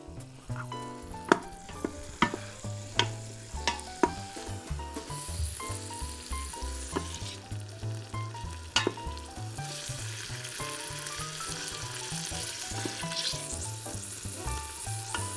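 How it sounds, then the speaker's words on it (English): Pancetta sizzles and fries in a hot Instant Pot for boeuf bourguignon, a steady crackling hiss with occasional sharp pops and stirring scrapes, close up with no talking. "So we let the pancetta cook. We want it to render out. We want it to get crispy."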